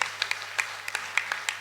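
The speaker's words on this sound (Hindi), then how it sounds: "एक बार ताली बजा दो" A small crowd at a devotional Ramayana recitation gathering claps in scattered, irregular bursts, fairly faint and distant, with a few sharp individual claps standing out.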